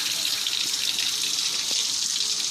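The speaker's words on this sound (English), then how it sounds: "You're just using warm water, just like you would do on yourself." Warm water runs steadily from a tap during pet grooming, a constant close hiss and splash with no talking.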